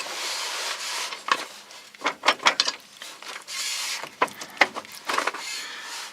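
Drive shaft being worked free from a Ford F-150 during transmission removal, a series of close metallic clunks, scrapes and ratcheting knocks in uneven bursts, with quieter rubbing between.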